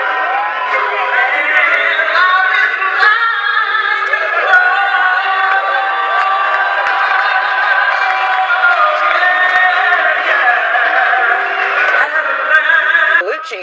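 A large crowd at a Madison Square Garden concert cheers and roars continuously, a dense wall of voices with some tonal, sung-sounding strands woven through it.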